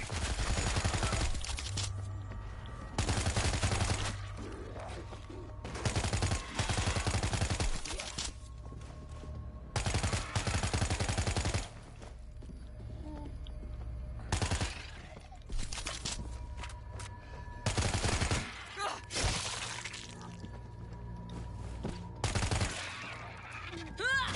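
Gunfire in the video game Extreme Slasher New York, with repeated loud bursts of rapid shots separated by quieter gaps, heavy and close, and no talking over it.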